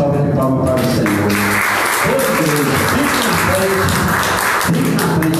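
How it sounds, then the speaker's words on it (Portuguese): Congregation applauding at a Portuguese-language church service, a loud dense wash of clapping running the whole time, with a voice and music-like tones sounding over it. "Dá uma forte salva de palmas para o Senhor."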